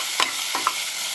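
Onions sizzle in a pot for a carrot, ginger and turmeric soup, a steady hiss of frying with a few brief scraping strokes of a spoon stirring through them.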